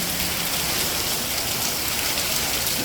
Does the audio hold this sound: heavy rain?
yes